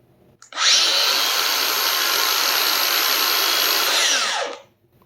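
A Makita angle grinder set to speed 5 spins up sharply, holds a loud, steady whine for about four seconds, then winds down and stops.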